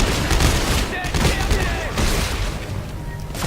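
Rapid gunfire bursts and booms in the video game Dead Space 3, loud and dense, with players' voices talking over the shooting.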